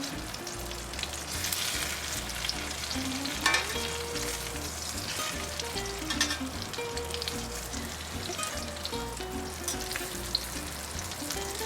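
Cheese-stuffed peppers fry in hot oil with a steady, close crackling sizzle that runs throughout, broken now and then by the clatter of stirring and turning in the pan.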